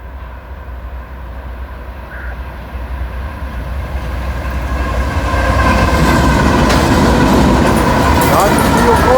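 Freight train on the CSX line passing below a bridge, its rumble and rattling wheels building steadily from moderate to loud and close, with a faint high squeal late on.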